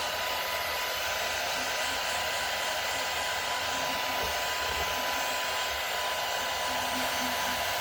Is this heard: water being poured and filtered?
no